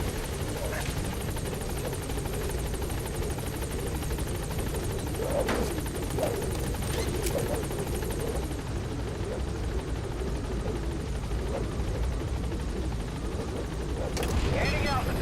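In Metal Gear Solid V, the support helicopter Pequod gives off a constant, loud rotor roar with a steady chopping throb that lasts throughout, while voices talk faintly over it and brief sharp sounds cut in now and then.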